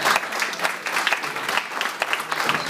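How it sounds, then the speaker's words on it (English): An audience at a Saturday morning church lectureship session gives a round of applause, steady dense clapping that fills the room for the whole stretch, with no talk over it. "we ought to give Brother Johnson a round of applause"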